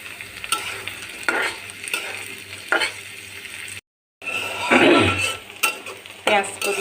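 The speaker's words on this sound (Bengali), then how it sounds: "পেঁয়াজের ফুলগুলি একটু ভাজা হয়ে এলে" Onions sizzle and fry in a pan with occasional stirring and scraping of utensils, steady and close, broken by a brief moment of silence.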